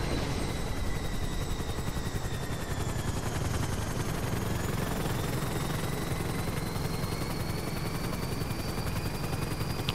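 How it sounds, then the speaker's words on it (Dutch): Helicopter in the racing video game Transform Races: a continuous, loud whirring engine drone with a steady rotor buzz and a slowly shifting whine, unbroken for the whole stretch, with no speech. "En dan gaan we weer op de heli's."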